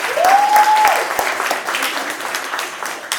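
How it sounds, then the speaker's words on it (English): A crowd applauds steadily, loud at first and easing slightly, with a brief whistle rising over the clapping near the start. "A round of applause for Mr. Rashid."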